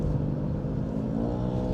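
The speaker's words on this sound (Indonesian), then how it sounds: "Wow, langsung mesinnya tuh meraung-raung." A sixth-generation Subaru Forester SUV with all-wheel drive revs its engine in sport mode, a loud, close, rumbling growl held steady throughout, heard from inside the car.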